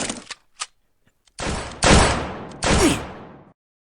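Gunshots fired while hunting pheasants: a couple of short sharp cracks, then two louder, longer blasts with booming decay, close and loud with quiet gaps between.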